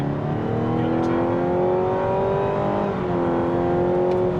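A 2025 Mazda CX-70 Turbo S SUV accelerates hard on a slightly uphill test run, its engine note rising steadily through the gears, loud and close from inside the cabin with no talking.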